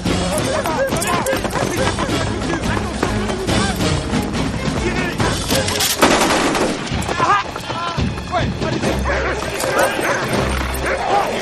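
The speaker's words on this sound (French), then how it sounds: "Les chiens!" Dogs bark in a chase scene from an action film, the barks mixed into a dense, loud soundtrack of gunfire, dramatic music and shouting voices.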